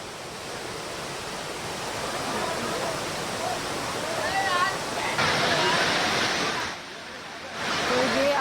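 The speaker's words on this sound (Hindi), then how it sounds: "झमाझम बारिश से सागर जलाशय और किशन कुंड पर झरना चलने लगा है" Heavy monsoon rain and water pouring over a reservoir spillway and a kund waterfall in Alwar, Rajasthan, a steady loud roar of rushing water throughout, briefly dipping near the end, with a voice talking faintly over it.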